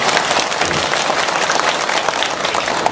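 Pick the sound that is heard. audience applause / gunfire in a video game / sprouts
audience applause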